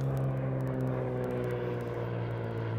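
Propeller airplane flying overhead, a steady droning hum with a rhythmic propeller buzz, moderately distant and continuous throughout.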